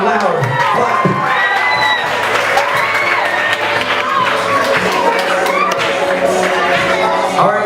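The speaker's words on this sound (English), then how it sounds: "Everybody give them a round of applause, come on, loud." Party guests at a sweet sixteen celebration applaud and cheer, with dense clapping, shouts and excited voices from a lively crowd, loud and continuous throughout.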